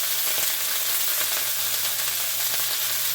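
Lamb chops char in a hot pan with a steady, close sizzle and frying hiss throughout, with no talking.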